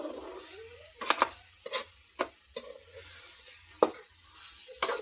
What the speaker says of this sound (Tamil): கிண்ட வேண்டியதுதான்.